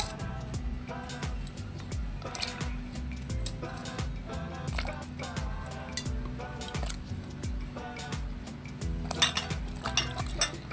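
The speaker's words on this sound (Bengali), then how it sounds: "এবার আমি বেগুনগুলো ধুয়ে নিব" Cut eggplant pieces being washed by hand in a bowl of water, close splashing, squishing and dripping with scattered knocks against the container.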